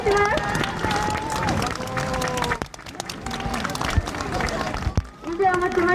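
Audience applause at the end of the Takasaki fireworks competition rises as a scattered clapping crowd, heard partly beneath an announcer's amplified voice.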